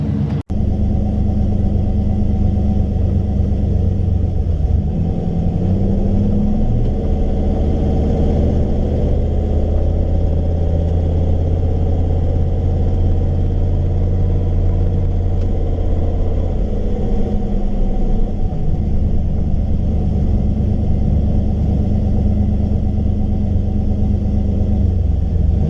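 A car engine rumbles steadily at low pitch while being driven around a residential block, loud and continuous throughout with mild shifts in revs and no talking.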